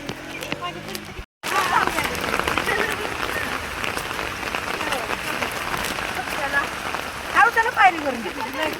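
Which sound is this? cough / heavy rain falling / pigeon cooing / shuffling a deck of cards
heavy rain falling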